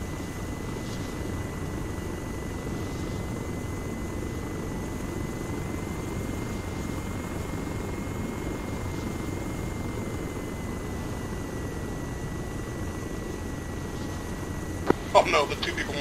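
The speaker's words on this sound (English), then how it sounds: "Oh no, the two people in my helicopter just died." A video-game helicopter's steady rotor drone runs throughout, constant and close, with a few sharp clicks near the end, from Arma 3.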